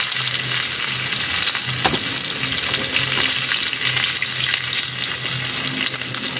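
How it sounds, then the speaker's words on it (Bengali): A fish head fries in hot oil, a loud, dense, continuous sizzle close to the pan, with faint scraping as it is turned and no voices. "সব দিকে ঘুরিয়ে ঘুরিয়ে আমি মাথাটা ভাজছি"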